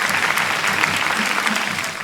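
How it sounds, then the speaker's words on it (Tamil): An audience at a Pongal pattimandram debate event claps in a dense, continuous burst of applause, close and loud for the whole stretch. "உங்கள் கரகோஷத்தோடு"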